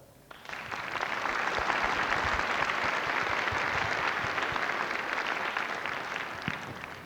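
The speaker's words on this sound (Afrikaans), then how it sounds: "Ook voor haar mag u klappen." A church audience breaks into applause for the manager, the clapping starting abruptly and holding as a full, steady roar of many hands.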